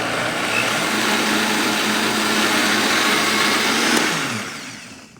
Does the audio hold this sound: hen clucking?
no